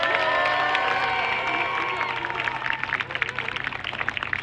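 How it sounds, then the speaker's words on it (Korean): A crowd at a press conference in Jeju's Tamna Square breaks into applause that swells in the second half, rising over a steady tonal hum. "박수 한번 부탁드리겠습니다, 여러분."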